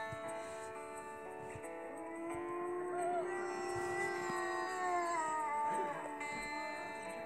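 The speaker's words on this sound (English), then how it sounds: "I've never heard a wolf sound so bad." A drawn-out, tonal wolf howl from the video game WolfQuest, with wavering pitch rising and falling over several seconds, electronic-sounding and fairly loud, with faint background noise.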